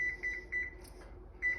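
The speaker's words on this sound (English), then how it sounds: "I'm going to put the timer on" A kitchen timer is set while dumplings are being prepared, giving short electronic beeps in quick pairs, then a pause and another cluster of beeps, close and clear.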